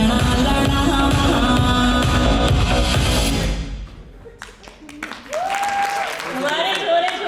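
Audience at an office annual celebration claps loudly and steadily, then the applause fades out and a person begins speaking, with scattered claps continuing underneath.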